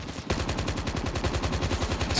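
Rapid automatic gunfire in Call of Duty Mobile rattles out as a fast, steady burst of closely spaced shots, loud and close, continuing without pause and with no talking over it.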